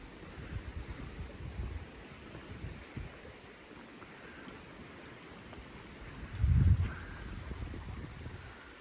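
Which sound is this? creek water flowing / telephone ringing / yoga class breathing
creek water flowing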